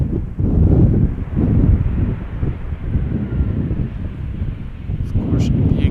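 Wind buffets an outdoor microphone at Schiphol Airport, a steady low rumbling roar with gusty swells running continuously and loudly throughout.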